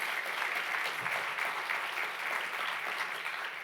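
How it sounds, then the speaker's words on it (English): An audience at an evening achievement awards ceremony breaks into steady applause for honored guests, a dense, even patter of many hands clapping at moderate volume, with no talk over it. "Please join me in a round of applause."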